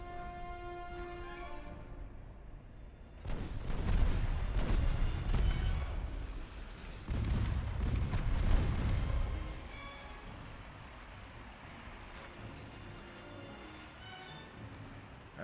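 Naval artillery fire in Ultimate Admiral Dreadnoughts: two long stretches of heavy, rumbling gun salvos and rolling booms, each lasting several seconds, over a steady ambient bed with quieter gaps between.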